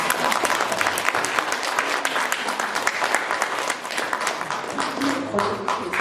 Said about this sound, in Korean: 박수 한번 하셔야 돼요.